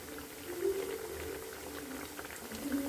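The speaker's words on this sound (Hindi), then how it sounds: "डीप फ्राई करने से ये थोड़ा ज़्यादा क्रिस्पी लगता है, इसलिए मैं इसे डीप फ्राई कर रही हूँ" Pieces of leftover roti deep fry in hot oil, giving a steady, close bubbling that sounds like liquid at a boil. The bubbling is quiet and even throughout, with no talking.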